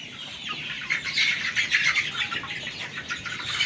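A flock of farm chickens making busy, overlapping high chirps and clucks, fairly loud and near, with no speech.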